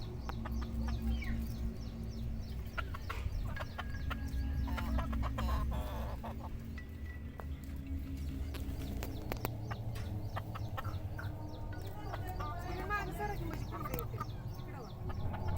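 Chickens cluck and a rooster calls intermittently nearby, with people talking over the birds throughout.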